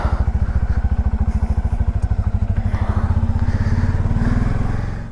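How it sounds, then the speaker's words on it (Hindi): A Bajaj Pulsar N250 motorcycle engine thumps steadily with a rapid low pulsing rhythm, close and loud, with wind and road noise building toward the end, on a monsoon road trip. "धर्मशाला तक जाने के लिए बाइक लेके जा रहा हूँ"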